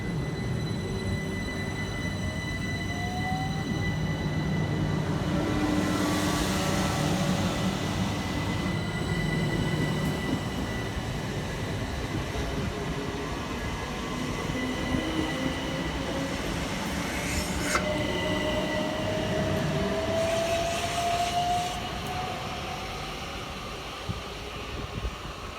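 Southern Railway class 377 electric multiple units passing through South Bermondsey station, a steady loud rolling rumble with rail noise and faint wheel squeal rising and fading over about twenty-five seconds, no talking.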